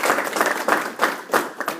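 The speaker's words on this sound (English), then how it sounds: "Have a round of applause" Audience applause at an awards ceremony for a cyber challenge competition, honoring the winning team; clapping comes in uneven surges over about two seconds, moderately loud and close, with no voices over it.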